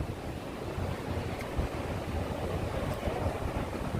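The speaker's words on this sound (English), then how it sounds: "Yeah, it's windy." Wind blows hard outdoors high above New York, a steady roaring rush with buffeting gusts against the microphone and no talking.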